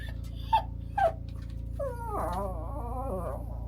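A dog close by lets out two short high yips, then a longer wavering whimper, over a steady low indoor hum with no talking.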